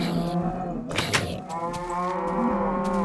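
Minecraft cows let out low, drawn-out moos that overlap one another, with a short louder bleat in the middle and steady game ambience underneath.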